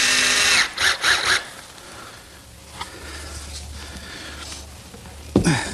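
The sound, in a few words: power drill driving screws into plywood blocks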